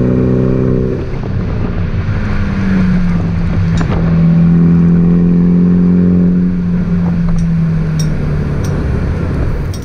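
Mini Cooper GP F56 engine drones steadily and loudly inside the car, with a low tonal hum rising and falling as it accelerates and settles, and no talk over it.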